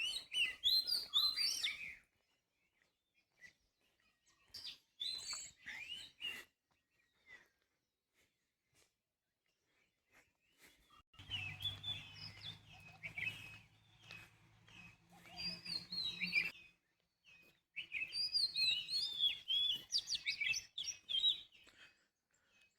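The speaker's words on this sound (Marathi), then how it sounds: "सकाळी चालायला आलं ना, पक्ष्यांचा किलबिलाट खूप असतो." Birds chirp and tweet in bright, scattered bursts across village fields at dawn, with quiet gaps between flurries and a low hum of traffic or machinery briefly underneath.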